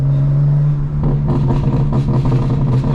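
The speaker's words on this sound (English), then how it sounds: "I reflashed the car this morning again, and I put the burbles on maximum, so let's go be a little bit obnoxious" A tuned 2025 BMW M4 Competition xDrive pulls hard from close by, its exhaust droning steadily and then breaking into a rapid series of crackling burbles as it accelerates.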